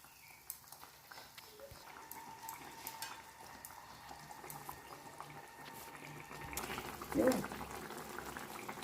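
Pomfret fish curry gravy bubbling in a pan as fried fish pieces go in, a low simmering burble with occasional clinks and a brief splashy swell near the end, faint voice in the background.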